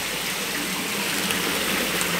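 Water pours steadily from the seven spouts of the old Pakandangan mosque in Padang Pariaman, a continuous broadband gush and splash that stays close and even throughout, with no voices.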